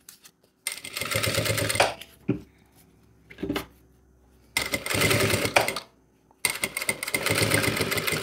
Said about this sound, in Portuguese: vamos costurar na parte de cima a mesma coisa que a gente fez quando a gente costurou a parte principal